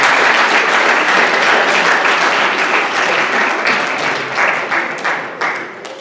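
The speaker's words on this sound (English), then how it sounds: "give your parents a round of applause for everything that you do for you" A large crowd at a junior honor society induction ceremony applauds loudly and continuously, the clapping thinning slightly toward the end.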